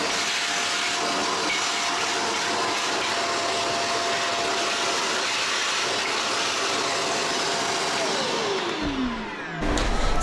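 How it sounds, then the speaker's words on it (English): A handheld mini vacuum cleaner whirs loudly and steadily at close range for several seconds, its pitch sliding downward as it shuts off near the end. "I've got a handheld mini vacuum"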